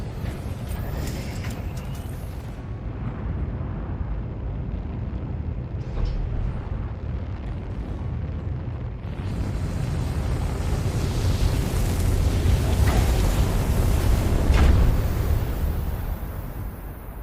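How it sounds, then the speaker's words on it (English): Steady, loud low rumble and whoosh of an aircraft's auxiliary engine running at weak output in Stellar Blade, with turbulent buffeting that swells toward the end, no voices. "The auxiliary engine's output is weak, so things can get bumpy."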